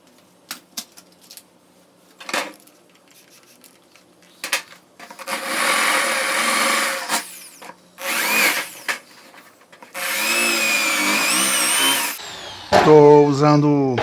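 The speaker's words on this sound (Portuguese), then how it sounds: "Vou dar uma largada com a broca de 10 milímetros." Power drill with a 10 mm bit boring through iron on a wood scrap, several loud, close bursts of whining drilling between short pauses and knocks, with a voice heard near the end.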